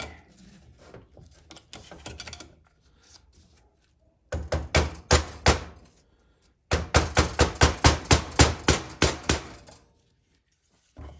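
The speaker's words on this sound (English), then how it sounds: "I'm gonna get a hammer and a screwdriver." Sharp metallic taps ring out as a hammer drives a screwdriver against a part of a Ford C6 automatic transmission during an overhaul, first a few light scattered knocks, then two fast steady bursts of loud, evenly spaced strikes.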